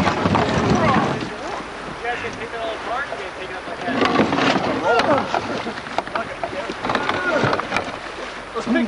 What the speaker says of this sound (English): Keep paddling.